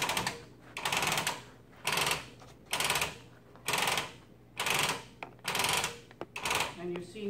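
Repeated mechanical cranking as a quilt is rolled onto the rollers of a Fox.Build QBot quilting frame, with about seven evenly spaced bursts of ratcheting noise close by, separated by short pauses.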